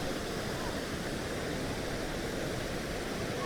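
Steady, dense rushing of the Polluru waterfall near Maredumilli, Andhra Pradesh, a constant roar without pauses, fairly close and filling the whole space.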